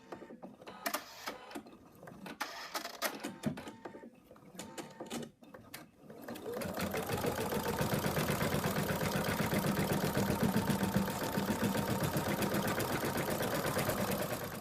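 An embroidery machine stitches an ear outline onto stabilizer in a hoop, starting after a few seconds of quieter handling clatter, then running as a steady, fast mechanical whir and needle chatter that holds for the rest.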